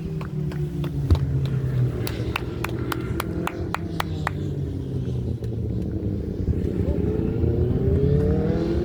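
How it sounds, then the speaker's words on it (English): Superbike engines at the start of the final Superbike Pro race at Bishopscourt race track in Northern Ireland, 2024, a continuous loud rumbling drone that builds with revving toward the end. "That John Finlay final Superbike Pro race start."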